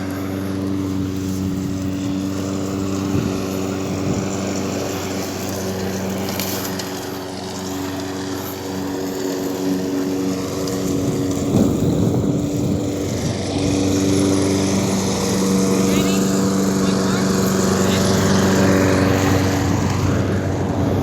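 A lawn mower runs close by in a steady, loud droning hum with a constant engine tone that builds slightly in intensity, heard alone without voices.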